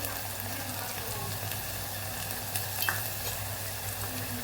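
Onion frying in a pan with ginger and garlic added, a steady close sizzle with light stirring scrapes throughout and no voices.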